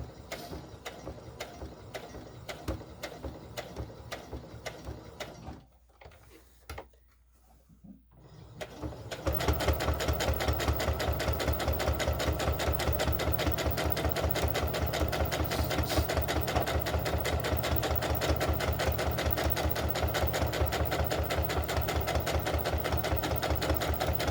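Small plastic sewing machine stitching doll clothes, a steady rapid mechanical whir with a brief pause early on, then louder continuous running close by.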